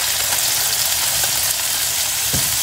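Ingredients sautéing in a hot pan for monggo pakbet, a loud, steady, dense sizzle close up with a brief stir or knock near the end.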